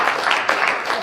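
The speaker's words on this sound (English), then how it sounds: "Give him a big round of applause," A short burst of audience applause at a live show, dense overlapping clapping that stays loud and even for about a second.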